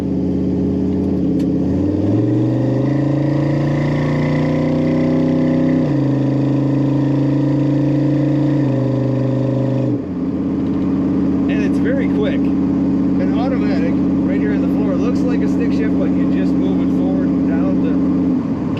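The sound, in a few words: 1936 Pontiac Coupe street rod exhaust note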